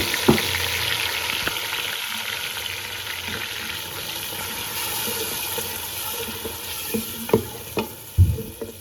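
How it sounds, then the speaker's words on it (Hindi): Spice batter poured into hot oil and frying: a continuous close sizzle and bubbling, with a few louder clattering knocks near the end. "अब इसमें जो ये मैंने एक मसाले का बैटर तैयार किया था वो मैं इसमें डाल दी।"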